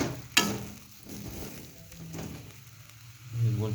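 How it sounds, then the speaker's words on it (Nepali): Egg and potato sizzle in a frying pan while being slowly stirred, with a sharp clack of the utensil near the start, then a soft, uneven crackle and scraping, no talking. "यसरी चलाउने बिस्तारै।"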